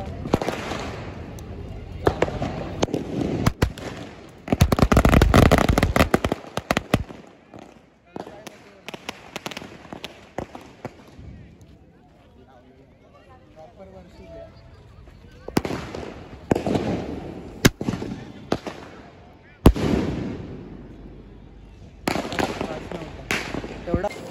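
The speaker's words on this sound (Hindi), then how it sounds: "तर गाईस अजून एक स्काय शॉट लावलेला आहे, बघू हा कसा फुटतो." Diwali sky shot fireworks bursting outdoors at night, loud repeated booms and crackling in clusters with quieter gaps between volleys, and people talking in the background.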